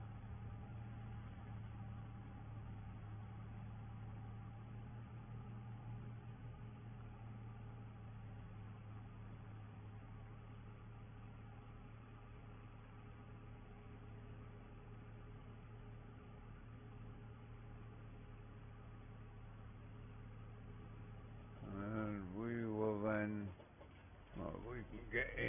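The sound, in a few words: New Holland tractor engine driving up a hill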